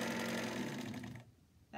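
Vintage Elna Supermatic sewing machine stitching a scalloped edge, a dense close mechanical whir that stops abruptly, then a short quiet gap before it briefly restarts.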